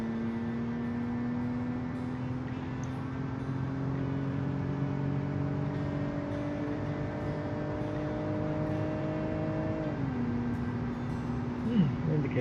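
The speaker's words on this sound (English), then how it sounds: "Sounds very beautiful because of the Boxer 6 engine." A boxer six engine drives a taxi car in a driving game on a desert highway, its steady mid-pitched drone holding a rising tone, then shifting down near the end. A faint whine sits above the engine, and no one speaks.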